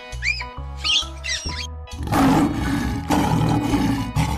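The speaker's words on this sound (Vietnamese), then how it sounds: "Con sư tử." A lion roars in a deep, loud, rasping burst that follows a few short cartoonish tones, the roar sustained and close for a couple of seconds, with no talking.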